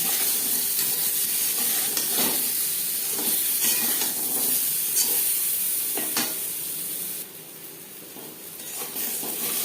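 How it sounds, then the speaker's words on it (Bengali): Potatoes fried with salt and turmeric hiss steadily in oil in a kadai for a chicken curry, with repeated scraping stirs of a spatula, close and loud, the sizzle briefly dropping near the end, no speech. "লবণ হলুদ দিয়ে ভেজে নেওয়ার পর একটা পাত্রে উঠিয়ে নেব"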